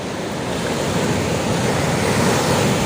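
Sea waves break on a shore in a continuous loud, rushing roar of surf, steady throughout with no voices.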